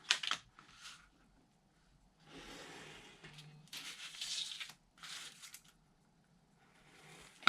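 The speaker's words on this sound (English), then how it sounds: "then I'll come back and trim off my excess paper." Excess paper being trimmed from a 12-inch sheet on chipboard for a handmade stationery set, a series of short scratchy cutting and rustling bursts separated by quiet pauses, close and fairly faint.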